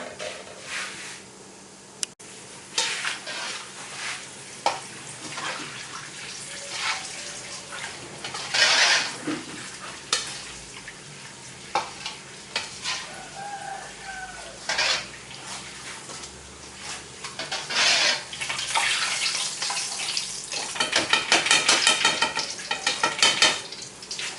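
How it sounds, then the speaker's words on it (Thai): Thai sour fish (pla som) fries in a pan until crisp, giving a sustained crackling sizzle with intermittent stirring and clatter from the pan, without speech. "แล้วเดี๋ยวมาทอดใหิแห้งกันนะ"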